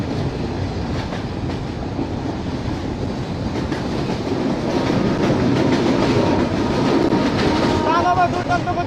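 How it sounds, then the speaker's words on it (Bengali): Rupsha Express train running past Khulna Junction, a local station: loud, steady rumble and rattle of railway carriages with rhythmic clacking throughout, rising slightly toward the end, with faint squeals near the finish. "এখন আমরা একটি লোকাল রেল স্টেশন পাস করতেছি"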